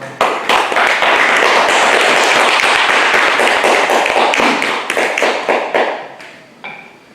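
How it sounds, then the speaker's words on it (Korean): Audience at a Won Buddhist meditation hall in Busan claps to welcome a lecturer, a loud, close burst of dense hand clapping that thins out and fades toward the end. "박수로서 맞이해 주십시오."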